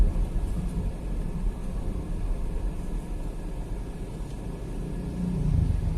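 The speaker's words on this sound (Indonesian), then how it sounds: "Suara mesinnya halus." A 2012 Nissan Grand Livina with a manual gearbox runs at low RPM, giving a smooth, quiet, steady engine rumble with a faint drone inside the cabin and a slight swell near the end.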